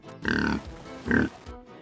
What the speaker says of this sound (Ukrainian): Привіт, свинко.